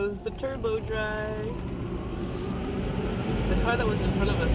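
A car wash turbo dryer blows a loud, steady broadband roar that fills the whole stretch, with voices talking over it.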